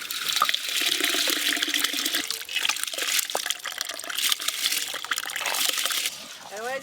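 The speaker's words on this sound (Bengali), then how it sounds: "ধুয়ে ভিজিয়ে রাখা চালগুলো দিয়ে দেব।" Soaked, washed rice is tipped into a pot of boiling water, a busy splashing and trickling pour with bubbling underneath, while someone talks over it.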